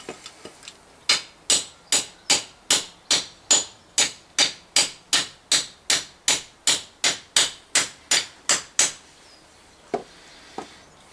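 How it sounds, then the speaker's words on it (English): A hammer strikes wood about twenty times in a steady, even rhythm while fitting a handle to a froe, each blow sharp and close, followed by a couple of lighter taps after a pause. "Where's the hammer? I'll give it a bit more of a clout."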